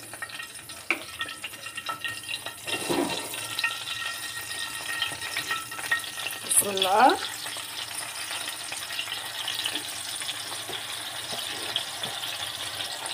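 Hilsa fish frying in hot oil on a griddle, a continuous crackling sizzle with occasional clatter of utensils, close and steady, with no talking.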